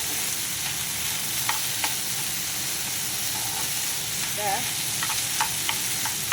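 Rice mixed with a little dal fries in a pan, a steady close sizzle with occasional light stirring scrapes and clinks, no voices heard.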